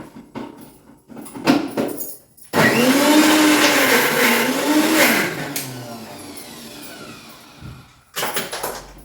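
Kitchen mixer grinder blending ingredients for a Kerala home-cooking dish, a loud steady whirring motor with shifting pitch for about six seconds, bracketed by brief clatter and handling noise before and after.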